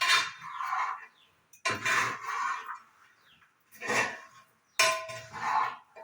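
A metal spoon stirs sharkara varatti, jaggery-coated banana chips, in a pan, making four bursts of scraping and clinking separated by short pauses.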